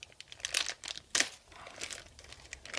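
Plastic cheese packaging is cut open with a blade, giving close crinkling and rustling crackles in short bursts, with one sharper, louder crinkle partway through and quieter handling noises after.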